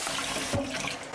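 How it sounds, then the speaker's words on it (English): Cold tap water runs into a Ziploc bag holding potatoes, making a close, continuous splashing rush that fills the whole moment with no talking. "Put the potatoes in first and then fill it with cold water."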